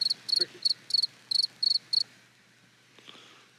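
Crickets chirp in seven quick, evenly spaced pulsed bursts, fairly close and clear, then fall silent apart from a faint soft tick near the end.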